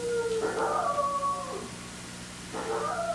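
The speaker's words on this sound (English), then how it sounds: "Wish those dogs would stop howling." Dogs howling in drawn-out, wavering cries, one long howl followed by a pause and then another starting, heard faintly at a distance over a low background.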